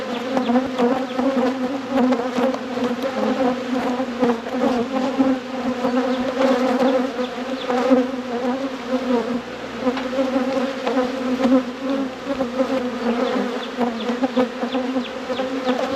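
Honeybees drone loudly and continuously at an opened deep hive during an after-winter inspection, a dense close buzzing swarm with no voices heard.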